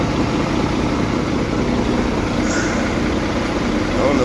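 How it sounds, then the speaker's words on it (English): A blower on a cash truck runs steadily, a loud, even broadband whoosh with low rumble that holds through the whole stretch without a break. "Turn on the blower."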